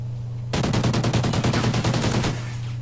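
A rapid burst of automatic gunfire from a shooter video game rattles loud and close for about two seconds, the evenly spaced shots cutting in sharply over a steady low hum and stopping abruptly.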